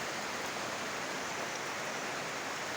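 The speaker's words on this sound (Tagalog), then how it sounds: "lakas ng ulan ganun na guys ulan guys basang basa ng lupa" Heavy rain pours onto a cornfield, a steady, even hiss of downpour soaking the ground, continuous and moderately loud with no voices.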